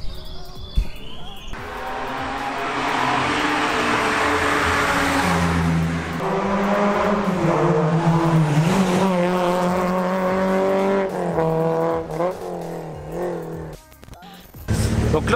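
Rally cars at the Saint-Marcellin rally roar past up close, engines revving and shifting through rising and falling pitch for several seconds, with a brief lull and a further burst at the end.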